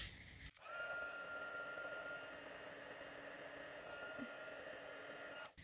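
A heat tool blows a steady, soft, close rush of hot air while melting white embossing powder on a stamped card; it switches on after half a second and shuts off just before the end.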